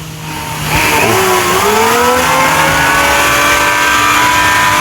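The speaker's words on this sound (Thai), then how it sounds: "มาเบิ้ลเลยมาเบิ้ลรถนั่นน่ะ" A car engine revs up hard and stays loud and close, its whine climbing and holding at high pitch with no talking over it.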